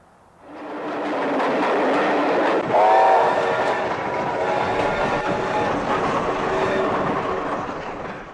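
A train passes on the track at Banff, its rumble rising quickly to a loud steady roar with a brief tonal horn or squeal early on, rolling and clattering close by before easing slightly at the end.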